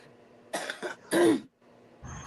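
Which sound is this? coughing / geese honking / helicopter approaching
coughing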